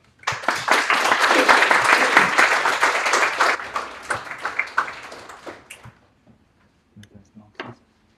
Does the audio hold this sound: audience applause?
yes